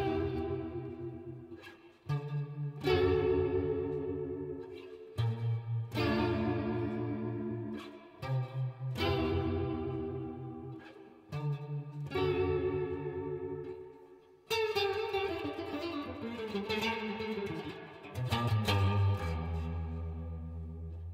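Electric guitar played through a Boss Waza Craft CE-2w chorus pedal with reverb added: ringing chords and single notes shimmer and trail off in wash. Clean phrases are separated by brief pauses, with a busier, denser passage near the end.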